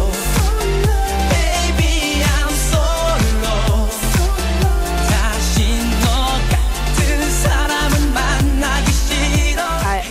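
K-pop track playing, a steady driving beat with punchy drums, synths and vocals, loud and continuous throughout.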